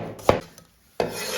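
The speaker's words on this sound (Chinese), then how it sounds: "准备一个黄瓜，我们也给它切成菱形片" A knife slices a cucumber into diamond-shaped pieces on a cutting board, with two crisp, close cuts separated by a short silence.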